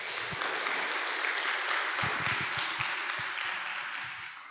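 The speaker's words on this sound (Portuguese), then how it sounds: "Uma salva de palmas para os meus colegas." Audience applause greets colleagues being introduced at a youth spiritist webinar, steady broadband clapping holding for several seconds with a few sharper individual claps standing out, fading slightly at the end, with no talking over it.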